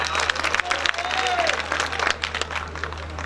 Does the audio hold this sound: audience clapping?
yes